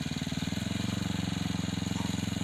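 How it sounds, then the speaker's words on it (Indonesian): A petrol engine-driven water pump, a Gambior machine, runs steadily while watering a large planting of odot grass, a continuous close, loud, rhythmic engine chug with even pulses throughout and no other sounds. "Saya kalau penyiraman itu biasanya memakai mesin, karena memang skala yang sangat besar."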